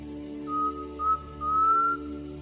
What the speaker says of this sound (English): The clear whistled song of the undulated tinamou is a characteristic early morning sound of river edge or low-lying forest.